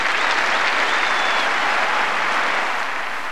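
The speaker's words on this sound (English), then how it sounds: "A tremendous hand for McEnroe, whose behaviour today was beyond reproach." Sustained, loud applause from a Wimbledon tennis crowd for John McEnroe, a dense and even wash of clapping that holds steady throughout.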